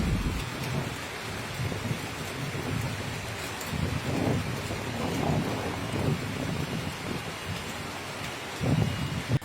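Heavy rain during a thunderstorm in Guangdong, a dense, loud, steady downpour with low rumbling thunder swelling underneath and no voices.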